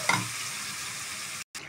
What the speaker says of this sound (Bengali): এখন ভাজতে থাকবো, ভাজতে ভাজতে একদম কালো হয়ে যাবে।